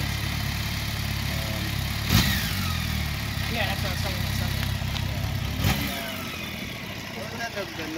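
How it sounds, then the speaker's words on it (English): An idling BMW K1200GT motorcycle rumbles and rattles steadily at close range, with a couple of sharper knocks, while people talk over it. "Wasn't that the normal clutch rattle you hear from these things?"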